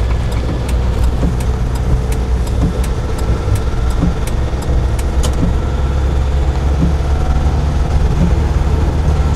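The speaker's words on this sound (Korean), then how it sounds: "엔진이 너무 시끄러우니까" A steady car engine hums and rumbles from inside the cabin, continuous and fairly loud, with faint regular ticking above it and no talking.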